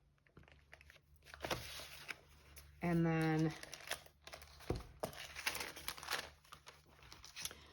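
Fabric is crinkled and rustled close by while a person talks, with a short buzzing tone in the middle.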